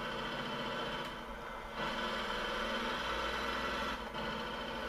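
A Volkswagen Combi van engine in the Gran Turismo 6 video game drones at low volume, with a brief dip in pitch as it changes gear partway through, then carries on steadily.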